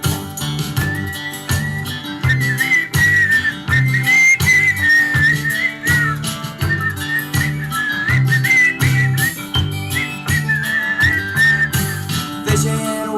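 A melodic whistled line runs over a steady beat in a song, the whistling rising and falling in long phrases above bass and drums.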